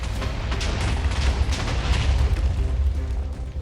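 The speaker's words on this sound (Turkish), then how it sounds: "Patlat patlattım patlattım patlattım patlattım kaç." A TNT blast in the video game Minecraft, a loud, continuous low-frequency booming rumble lasting the whole stretch with a sharp hit at the very end, with no talk over it.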